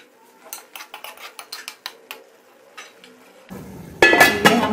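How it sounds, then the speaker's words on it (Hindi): A metal spoon clinks and scrapes repeatedly inside a covered handi of chicken malai in a quick uneven rhythm, then gives way to a louder, denser bubbling sizzle near the end. "लेकिन हम अंदर अंदर हल्का हल्का चम्मच चलाते जाएंगे"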